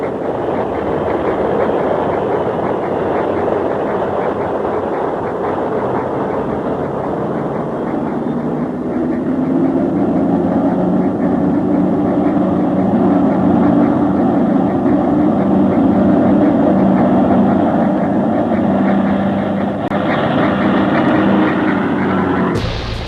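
Avro Lancaster Mark V WWII bomber engines running up for takeoff, a loud, steady multi-engine drone that swells and deepens partway through before a brief cutoff at the end.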